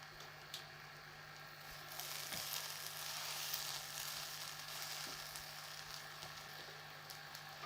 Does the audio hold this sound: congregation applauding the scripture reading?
no